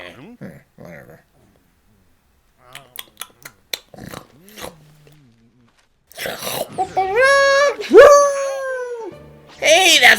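A puppy in the Layton video game yips, whimpers and barks in short bursts that grow louder and more excited, with a character's voice talking between the animal sounds.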